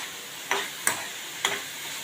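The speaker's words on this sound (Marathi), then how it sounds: "आता थोडा गॅस मोठा करून आपण एक सतत ढवळत राहूया गुळ आणि खोबरा एकमेकांमध्ये मिक्स झाला पाहिजे" A spoon stirs jaggery and grated coconut together in a pan over the gas for a modak filling, making three short, faint scraping strokes with quiet pauses between them and no talk.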